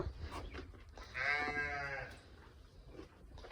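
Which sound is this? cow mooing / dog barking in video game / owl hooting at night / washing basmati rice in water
cow mooing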